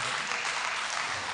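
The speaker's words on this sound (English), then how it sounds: "Clap for the guy." Audience clapping at an international hall event, a short, steady burst of dense applause from a crowd, fairly loud and continuous.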